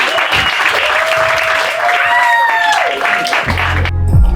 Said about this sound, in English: Clap it up one time for me and for Courtney